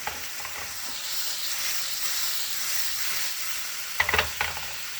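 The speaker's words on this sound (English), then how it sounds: "Throw your garlic in there" Garlic sizzles and hisses steadily in a hot pan, loud and close, with a few sharp utensil clanks near the end and no voices.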